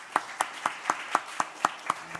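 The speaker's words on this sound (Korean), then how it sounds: "우리 하나님께 감사의 박수 올려드리겠습니다." A church congregation at a Korean-language youth service claps in unison, about nine evenly spaced, fairly faint beats.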